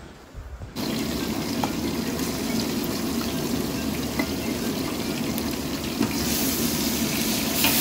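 Food frying in a pan for a Telugu home-cooked meal of chicken fry, prawns, gongura mutton and bagara rice bursts into a loud, steady sizzle after a quiet start, with faint scraping of stirring under the hiss.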